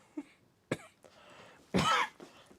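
A person coughs a few times at close range, short throaty bursts ending in one louder, harsher cough, with no speech.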